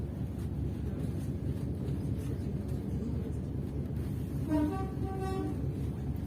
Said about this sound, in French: nous franchissons des appareils de voie, hein, des aiguilles